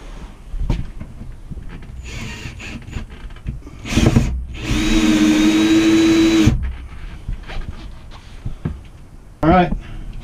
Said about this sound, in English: time to get the screws in.